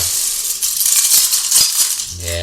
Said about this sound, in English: that is the sound of Legos.